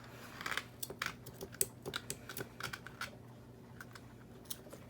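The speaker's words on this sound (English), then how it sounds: "Got my dull scissors over here." Sharp snips of dull scissors trimming thread on a handmade journal repeat in quick, uneven bursts close by, with small clicks and rustles between cuts and no voices.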